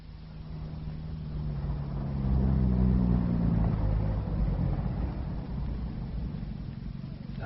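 A car engine rumbles low in a vintage BBC Cold War spy radio drama, swelling louder as the vehicle draws near, then settling into a steady idle hum, with no speech over it.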